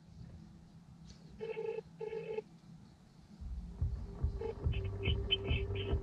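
Ringback tone of an outgoing phone call: two short electronic ring bursts in quick succession, then a low rumbling hum and faint beeping tones, with no voices.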